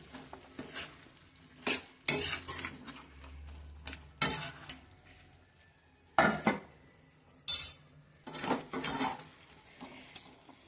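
Quail fry being stirred in a pan, with scattered bursts of utensil scraping and clatter against the cookware separated by quieter stretches of faint sizzling, close and fairly soft.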